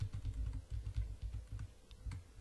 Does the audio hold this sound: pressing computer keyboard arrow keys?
yes